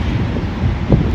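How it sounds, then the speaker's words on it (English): Gusty wind blowing outdoors at a roadside stop among big trucks, buffeting the microphone with a loud, rough rumble that swells near the end, no voices. "Sorry, it's windy out here,"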